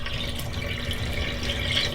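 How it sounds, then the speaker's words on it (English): Water poured from a bucket of live leeches through a strainer, a continuous close splashing and trickling flow at moderate loudness with no voices. "Then when I pour out the leeches,"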